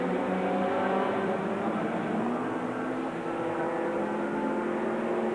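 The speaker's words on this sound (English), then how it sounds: "So everything under control at Lister as the number 14 car goes back out with Julian Bailey at the wheel." A Lister race car in the FIA GT 2000 championship leaves the pits, its engine a loud sustained drone that holds steady and slightly shifts in pitch as it pulls away.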